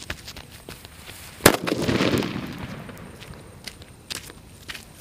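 A single sharp firecracker blast cracks loudly, followed by a brief hissing, crackling tail and scattered small pops and shuffling sounds nearby.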